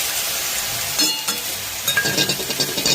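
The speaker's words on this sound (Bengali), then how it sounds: "দিয়ে আমি নেড়ে নেব।" Salt, turmeric and chili powder being stirred into food frying in a pan, with a steady close sizzle and scraping stir strokes that grow busier toward the end.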